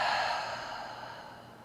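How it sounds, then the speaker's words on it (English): An open-mouth exhale during yoga breathing: one long, breathy whoosh that starts loud and close, then tapers gradually, with no talking over it. "Take a deep inhale."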